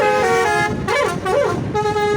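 Telolet musical bus horns blare loudly at Kalimalang near the Pondok Kelapa toll road, playing a tuned multi-note melody with rising and falling swoops, close and dominant over a steady traffic rumble.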